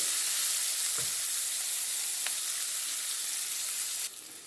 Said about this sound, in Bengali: কেটে রাখা পেঁয়াজ দেওয়ার পর আমি ওটাকে একটু ভেজে নেব।